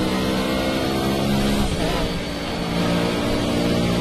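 A loud, steady racing car engine in a video game drones throughout with a harmonic whine, dipping briefly in the middle before roaring back up.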